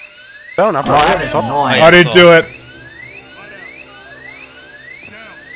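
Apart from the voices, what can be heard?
drill running in the video game Payday 2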